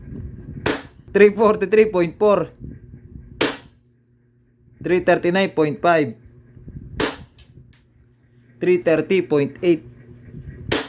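A WE Glock 19 Gen 5 airsoft pistol firing, three sharp isolated shots spaced a few seconds apart, each followed by someone speaking numbers close to the microphone.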